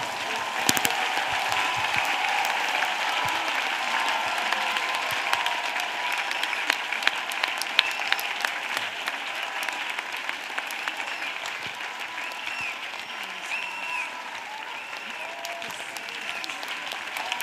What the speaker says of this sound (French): Let's applaud for the Lord.